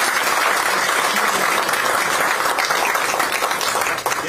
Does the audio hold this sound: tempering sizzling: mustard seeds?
no